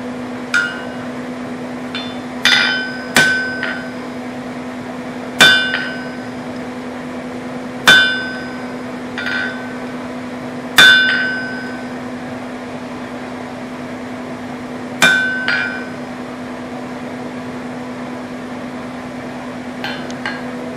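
Hammer blows ring on an anvil while V-bit tongs are forged: about nine sharp metallic clangs arrive at uneven intervals, some as quick double strikes. A steady mechanical hum runs underneath and no one speaks.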